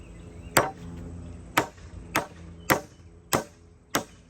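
A claw hammer drives nails to tack two 2x4s together: six sharp, ringing strikes, close and evenly spaced, with no talk.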